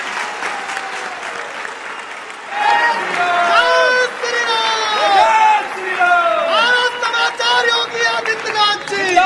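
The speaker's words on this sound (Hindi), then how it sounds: "और ये तालियां बजती रहनी चाहिए।" An audience applauds to welcome the Chief Minister at a media conclave, with steady, loud clapping that rises after a short lead-in. Whistles and a voice carry over the crowd.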